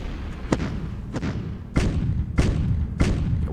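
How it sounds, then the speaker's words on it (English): Artillery fire in Decisive Campaigns: Ardennes Offensive, set in the Battle of Bastogne, lands as five heavy thuds at roughly even intervals over a few seconds, the last three louder and closer together. "I think we better go ahead and try to loosen them up a bit with some artillery"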